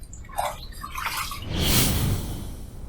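Water splashes and drips as a razor and face are rinsed after a with-the-grain shaving pass with a Vikings Blade Chieftain Hera razor, starting with small drips and building to a fuller, steady splash near the end.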